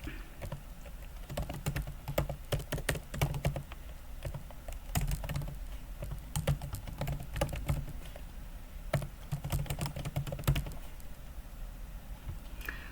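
Rapid, fairly quiet typing on a computer keyboard while entering spreadsheet data, irregular bursts of key clicks with brief pauses and occasional heavier thumps.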